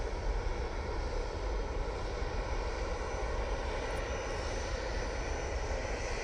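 A Jet2 airliner's engines produce a steady, broad droning roar, distant but continuous and unbroken, with no voices.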